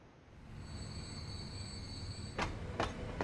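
Passenger train pulling into a station in the video game Transport Fever 2, a low steady rumble of rolling wheels with a faint high squeal, then two short bursts of clatter near the end.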